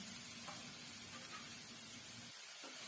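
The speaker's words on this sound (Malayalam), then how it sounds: "എണ്ണ ചൂടായി വരുമ്പോൾ നമ്മൾ കട്ട് ചെയ്ത് വെച്ചിരിക്കുന്ന വെജിറ്റബിൾസ് എല്ലാം ഇതിലേക്ക് ചേർത്ത് കൊടുക്കാം" Chopped vegetables for an omelette sautéing in hot oil, giving a steady, even sizzle with a low hum beneath and a faint stir or two, at moderate level with no voices.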